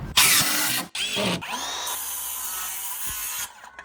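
A power drill whirs in loud bursts, stopping and starting as it drives screws during a sunken catamaran rebuild, then spins down to quiet near the end.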